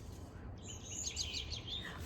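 Small birds chirp and tweet in quick high bursts, somewhat distant and faint over a low background rumble.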